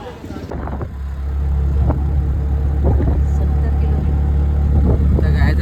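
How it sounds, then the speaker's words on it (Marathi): An auto rickshaw engine hums and revs during a ride toward Tuljapur, a close, steady rumble with occasional surges, while passengers chat over it. "आपण रिक्षावर सगळ्यांना बसलेलो आहे"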